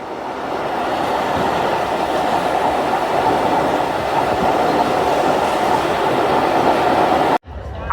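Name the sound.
Ovijatri commuter train entering Keraniganj railway station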